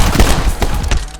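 Two guns fire at once in My Friend Pedro, a rapid close fusillade of sharp, loud shots packed into about a second.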